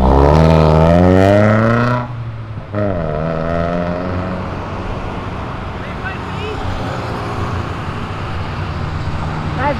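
A Honda Prelude drives out of a car event, its engine and road noise swelling into a steady, close roar after people talk nearby at the start.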